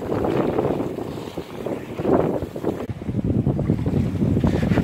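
Sailboat running at about 5.5 knots under a reefed mainsail and staysail, with steady wind rushing and buffeting the microphone over a continuous wash of water along the hull.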